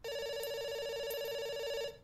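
A telephone rings in the game Doctor Langeskov, one steady electronic ring tone holding for about two seconds before it cuts off, with no talk over it.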